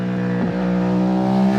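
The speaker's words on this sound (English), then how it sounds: "We're going to ride a beautiful Ducati 888 SP4." A Ducati 888 SP4 motorcycle engine on the road, a loud, steady close-up drone with a strong low hum and a brief pitch sweep near the start.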